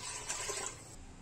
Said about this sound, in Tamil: இந்த டம்ளர்ல நாலு டம்ளர் தண்ணி எடுத்துக்கங்க